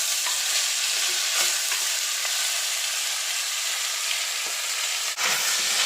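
Onions sautéing in a pan for a roasted-coconut Kerala chicken curry: a steady, close sizzle runs throughout with a few soft stirring scrapes and one brief dip near the end.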